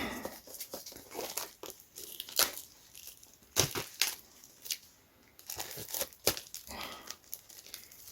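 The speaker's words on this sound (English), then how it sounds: "So get that cellophane off." Cellophane wrap is pulled and crinkled off a 4K steelbook of Willy Wonka & the Chocolate Factory, close up, in bursts of loud crackling and tearing separated by brief quiet gaps. Nobody talks.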